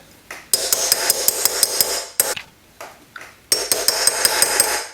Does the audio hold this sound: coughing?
no